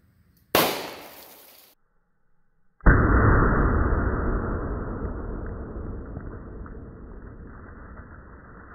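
.38 Special revolver firing 125 grain bonded defense rounds. One sharp shot rings out, and a second, heavier blast follows after a pause with a long rumbling decay. No one speaks.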